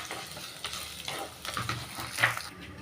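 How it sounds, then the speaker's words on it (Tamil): Sliced onions and curry leaves sauté in a pan, a moderate sizzle broken by repeated spatula stirs and scrapes, close and without speech. "வெங்காயம் வதங்கி வரட்டுங்க."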